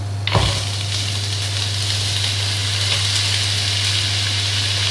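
Onions sizzling in a hot pan for an Asian stir fry, a steady bright frying hiss that starts with a sharp burst as they hit the oil and continues close and loud.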